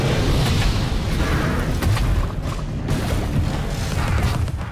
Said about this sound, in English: See, this is why we upgrade the teapot cannon.